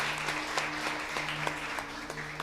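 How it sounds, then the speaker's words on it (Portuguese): Church congregation applauding during a Portuguese-language worship service, a steady patter of many hands clapping close by with a sustained tone humming underneath, continuous through the short stretch. "Aplaude Jesus, igreja."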